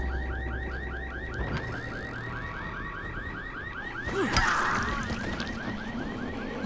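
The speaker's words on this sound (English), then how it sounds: "How do we shut this alarm off?" An alarm ringing in the video game Dying Light, a rapidly repeating electronic whooping siren pulsing steadily throughout, with a brief louder crash and clatter of game action partway through.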